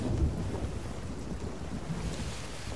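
A thunderstorm at sea in the Sea of Thieves video game: a steady low rumble of wind and crashing waves against a ship, with a dull thunder-like boom near the start, moderately loud and without talk.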